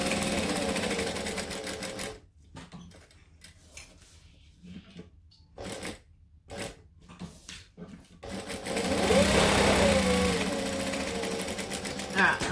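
A sewing machine set to a 2.5 stitch length stitches around a fabric piece, with steady whirring at the start and end and short, pulsing bursts in between, while someone talks over it.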